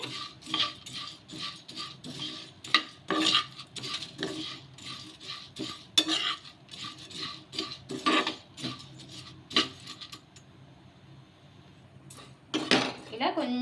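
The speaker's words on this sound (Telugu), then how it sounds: "ఈ ఓట్స్ని కొంచెం వేయించుకోవాలి" Oats dry-roasting in a pan while a metal spoon stirs and scrapes, giving irregular clinks and knocks close by, busy then pausing briefly before a final flurry.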